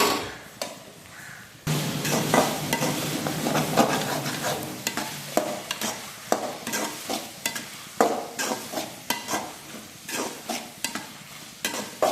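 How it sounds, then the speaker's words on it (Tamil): Onions and tomatoes sizzle softly in a pan for a dry fish gravy while a spoon scrapes and stirs in irregular strokes, close and fairly quiet. "நல்லா வதங்கிடுச்சு வெங்காயம் தக்காளி"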